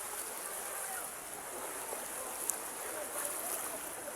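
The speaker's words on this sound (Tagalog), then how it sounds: "medyo malakas lang guys yung agos ng tubig" Strong river current runs steadily as a continuous broadband rush of water, fairly faint and even throughout, with a brief splash-like tick near the middle.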